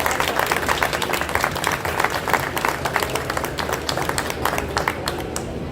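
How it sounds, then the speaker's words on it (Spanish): An audience applauds a speaker at a book presentation at a book fair, a steady mid-level patter of many hands clapping continuously, fading a little near the end. "Un aplauso para Lina."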